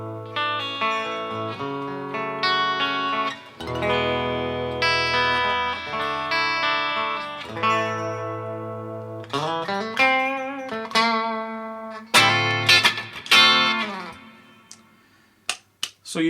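A Harley Benton SC-450 Plus electric guitar in honey burst plays on the bridge pickup, bright sustained chords and single notes, then sharp choppy strums, heard alone.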